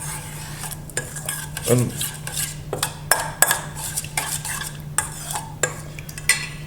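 A spoon mixes fresh lemon juice into a tabbouleh salad, with repeated clinks and scrapes against the bowl in an uneven rhythm and a faint background hum.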